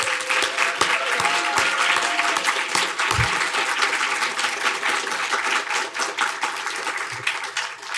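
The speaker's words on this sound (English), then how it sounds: "Please join me in a round of applause for all of our students." Sustained round of audience applause for students at a university public health research day, dense and steady clapping from a large crowd, loud and continuous throughout with scattered sharper individual claps.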